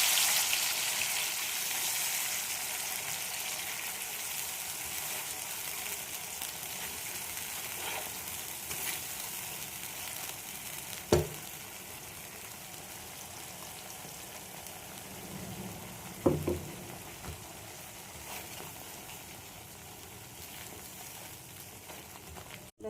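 Spice paste hits a hot pan for lemon paneer, giving a steady, even sizzle of frying that carries on for a long stretch, with a couple of faint knocks from a utensil partway through.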